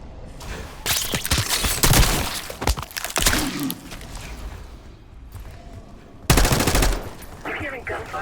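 Heavy gunfire in the Black Ops 6 campaign, loud automatic bursts and shots with crashing impacts in clusters separated by quieter gaps, with faint voices underneath.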